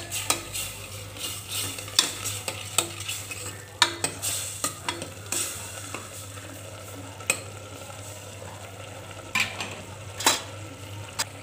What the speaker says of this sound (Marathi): ही मसाला थोडासा परतू द्यायचा